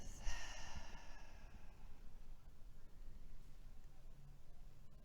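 A deep breath exhaled out of the mouth during an intermediate yoga flow: one soft, breathy sigh near the start, then a quiet, hushed room for the remaining seconds.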